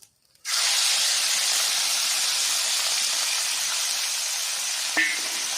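Local fish dropped into hot oil with dried red chillies, bursting into a loud, steady frying hiss that holds without a break, with one brief crackle near the end and no voices.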